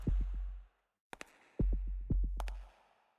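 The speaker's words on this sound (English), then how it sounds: "it's rhythmic. A heartbeat." Heartbeat sound effect from the Arknights video game story, heard as loud, deep thudding pulses in rhythmic doubled beats, with a brief pause and sharp crackling ticks between the pulses.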